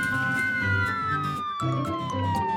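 A cartoon police car siren wails continuously, its pitch sliding slowly downward, over a busy music bed with no talking.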